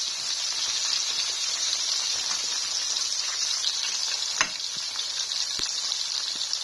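Ingredients for sambal fry in oil reused from frying fish, giving a steady, close, loud sizzling hiss with a few sharper pops and crackles toward the end.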